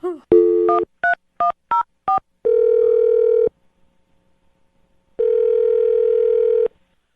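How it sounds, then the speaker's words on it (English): A steady dial tone sounds, followed by a rapid series of short touch-tone beeps, then two long ringback tones separated by a pause. "I'm going to dial his phone number right now"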